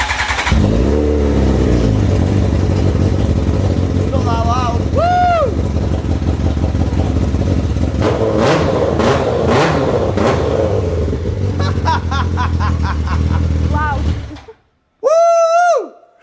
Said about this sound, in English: So we got the motorbike engine running in the Piaggio.